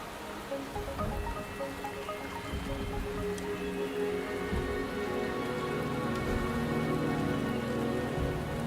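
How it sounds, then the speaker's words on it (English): Steady rain falls in the video game Wuthering Waves, a continuous close patter on surfaces beneath a soft musical backdrop, with no voices. "The rain is subsiding, and the sky will soon clear."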